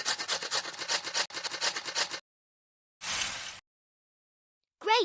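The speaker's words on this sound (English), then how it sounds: "We need to grate this." In a cartoon kitchen, a pizza ingredient is grated with quick, even rasping strokes. A steady run of grating is followed by silence, one more short scrape and a brief sound at the end.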